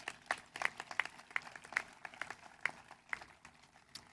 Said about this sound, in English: So let's give them a quick round of applause.